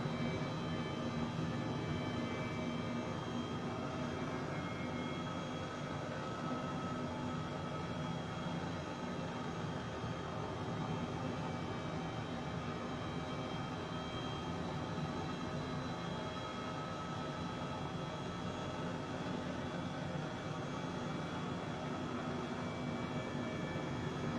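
An H135 helicopter in Microsoft Flight Simulator runs with throttle eased back while descending, giving a steady, even turbine whine and rotor drone that holds unchanged and fairly loud for the whole stretch, with no voices.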